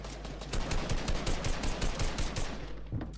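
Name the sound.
gunfire in Fortnite video game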